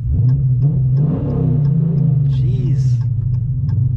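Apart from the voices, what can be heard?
V8 car with upgraded exhaust revving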